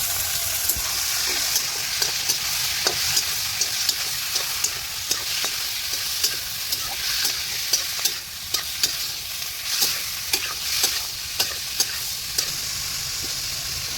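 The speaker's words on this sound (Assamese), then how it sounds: "যেহেতু জিৰাটো ভাজা হৈ গ'ল ডাইৰেক্ট আমি মাংসটো দি ল'ম আগত" Chicken frying with cumin in a pan of hot oil gives a steady loud sizzle, while a spoon stirs and scrapes at a fairly regular pace, close up, with no voices.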